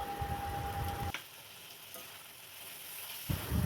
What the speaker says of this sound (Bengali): কিছুক্ষণ ভেজে নেব যতক্ষণ না রসুনের কাঁচা গন্ধটা যায়